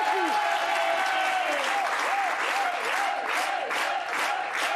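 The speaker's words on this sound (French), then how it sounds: "Je voudrais qu'on applaudisse aussi les téléspectateurs qui nous regardent et le public qui est là avec nous." A French television debate studio audience breaks into loud, sustained applause that fills the room. Bright musical tones or whistles rise and fall over the clapping.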